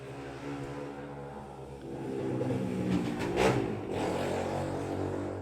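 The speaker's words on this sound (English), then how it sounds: "There's another motorcycle of doom." A loud motorcycle passes by outside, its engine swelling from a low rumble into a revving peak near the middle, then easing off slightly while staying audible; no talk.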